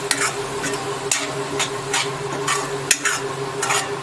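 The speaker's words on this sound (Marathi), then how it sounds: "आता हे बघा त्या मसाल्यामध्ये आपल्याला हे भाजून घ्यायचं आहे।" Ground coconut-onion masala roasts in a pan for Malvani chana usal, a close sizzle broken by rhythmic spatula strokes that scrape and knock against the pan about twice a second, with no talking.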